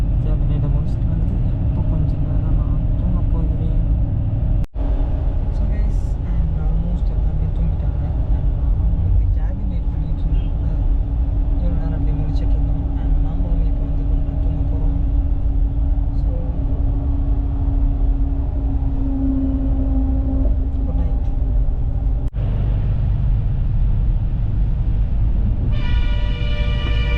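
A brand new Sabari Travels bus on the Chennai to Coimbatore route crawls through heavy traffic, its engine droning steadily and loudly inside the cabin for the whole stretch, with a couple of sharp knocks and a faint horn near the end.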